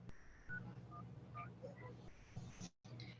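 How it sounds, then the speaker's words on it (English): Telephone keypad tones dial 911 on a phone, a few short beeping tones in sequence over a low steady hum, faint and close, followed by a brief cutout. "Dial 911."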